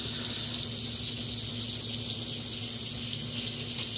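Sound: washing a mixture off under running tap water

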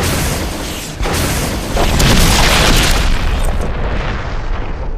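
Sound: rocket launcher explosion from video game Resident Evil

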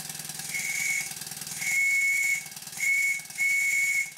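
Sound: steam whistle on model traction engine, low boiler pressure

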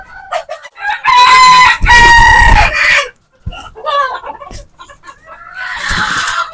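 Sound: native desi chickens, rooster crowing

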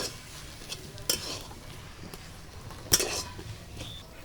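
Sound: stirring potato patty filling with coriander in a pan

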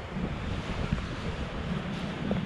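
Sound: strong wind on a beach

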